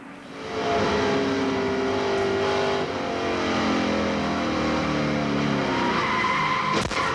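NASCAR race cars crashing and spinning at speed at Daytona International Speedway: loud, sustained engine roar with sliding, skidding tires and shifting pitch, ending in a sharp sudden burst of impact noise.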